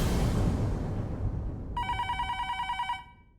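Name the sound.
telephone ringing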